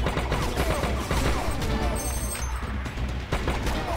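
Rapid bursts of gunfire from the mobile run-and-gun shooter Major Mayhem, loud and dense throughout, layered with game music and crashing effects.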